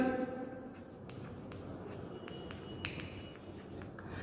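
Pen or chalk writing out a maths solution for a class 10 quadratic equation exercise, a soft scratchy stroke sound with light taps, close and faint over a steady background hiss.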